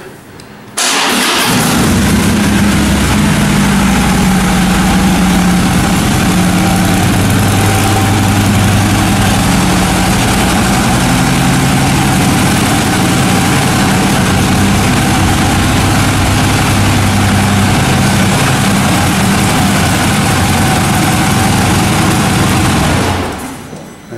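A 2014 Harley-Davidson Street Glide Special FLHXS motorcycle fires up and idles, a loud, close, steady low rumble that holds for over twenty seconds before cutting off.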